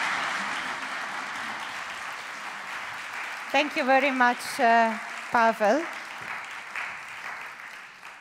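Applause at an award ceremony follows a winner's presentation, heard as a soft, steady clapping wash with someone speaking briefly over it partway through.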